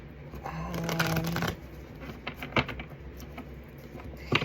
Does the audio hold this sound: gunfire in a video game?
no